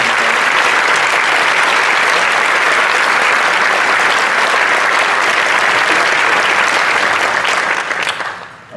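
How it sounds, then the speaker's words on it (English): Sustained applause at a 2017 Clinton School of Public Service commencement ceremony, a large crowd clapping loudly and evenly for several seconds before tapering off at the end. "let's give another round of applause to Jeff Nichols."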